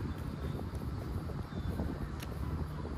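Steady wind buffets the microphone with a constant low rumble throughout, loud and unbroken, with no voices, outdoors in Zambales, Philippines.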